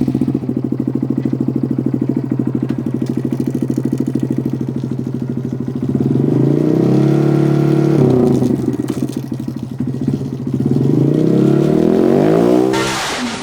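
Motorcycle engine on a dyno in a shop, running at a steady high buzz, then dropping and climbing again in a couple of loud rev sweeps, close and alone with no talking.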